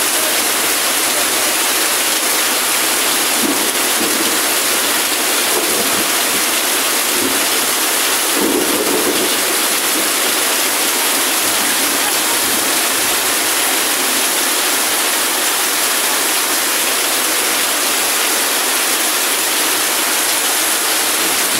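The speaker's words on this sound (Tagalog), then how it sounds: "Napakaliit ng kanal, hindi kaya talaga i-absorb yung tubig." Floodwater rushing steadily through a small, narrow drainage canal during a neighborhood flood, a loud continuous broadband wash of flowing water with a brief louder surge midway, close by and without voices.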